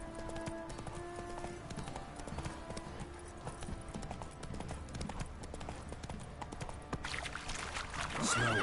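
Roach, the horse in The Witcher 3 game, gallops with a fast, steady clip-clop of hooves that runs the whole time, along with faint tonal game sounds and music.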